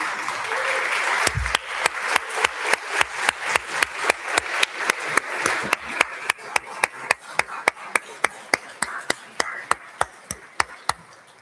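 Audience applause at a graduation celebration, a crowd clapping in the background while one nearby pair of hands claps loudly in a slow, steady rhythm, dozens of sharp regular claps running throughout.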